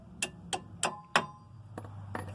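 Four sharp metallic hammer taps ring out at an even pace on the CV axle of a 1999 Nissan Maxima, followed by a couple of fainter knocks, close by in a garage with no talking.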